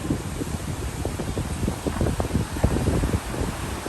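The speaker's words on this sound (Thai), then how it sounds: "ลมแรงมากเลยครับ" Strong wind blows on Ko Samet island in Rayong, Thailand, after a night of rain as a storm approaches, a loud continuous roar with gusty buffeting against the microphone and rustling underneath.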